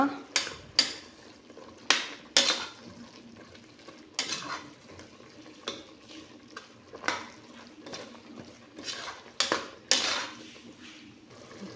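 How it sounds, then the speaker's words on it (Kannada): Fenugreek and spinach greens stirred into chickpea pulao in a metal pot: repeated sharp spoon scrapes and clinks against the pan at an uneven pace, close and fairly loud, no talk. "ಚೆನ್ನಾಗಿ ಮಿಕ್ಸ್ ಮಾಡ್ಕೊಳ್ಳೋಣ"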